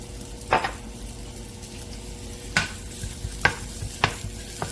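Onion and garlic cooking in a pan with a pinch of salt for a bacon cream spaghetti, with steady low sizzling under a few sharp scraping stirs of a utensil against the pan.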